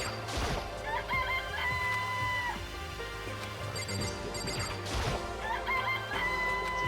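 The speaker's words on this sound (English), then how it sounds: "It's a chicken." Chickens from the Danganronpa video game cluck and crow in repeated rooster calls over a steady game soundtrack with low bass, loud and continuous.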